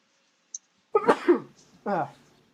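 A single sharp sneeze bursts out close by, followed by a short throat-clearing sound and a brief spoken word from the same person.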